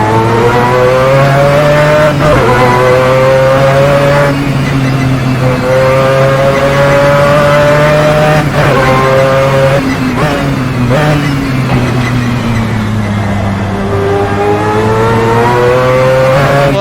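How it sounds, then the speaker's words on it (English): Mazda 787B quad-rotor racing engine in Assetto Corsa on the Nordschleife, a loud, buzzing rotary howl that rises and falls through gear changes and revs, heard alone and close. "I'm gonna shut up for the first couple of seconds just so you can hear this quad rotor sing behind us"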